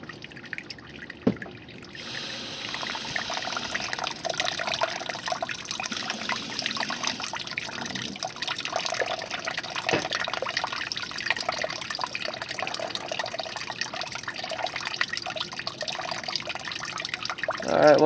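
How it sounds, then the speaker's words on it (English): Steady running water from a garden hose flushing coolant out of an LT1 small-block Chevy radiator, a continuous trickling, dribbling flow with drips, close and moderately loud throughout with no talking. "You just keep running the hose in it."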